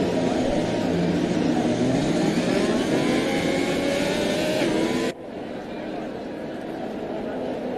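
Several race cars of an electric racing series pull away together on a formation lap in Jeddah, a dense broadband roar and whine that holds steady, then drops sharply as the pack moves off, with announcer talk underneath.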